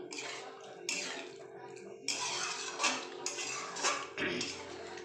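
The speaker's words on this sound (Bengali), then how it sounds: "আমি এটা বাটারটাকে একটু মিশিয়ে নিই" A spoon scrapes and clinks in a pan as butter is stirred into a carrot, capsicum and paneer do pyaza curry, in several close, irregular bursts with short pauses between.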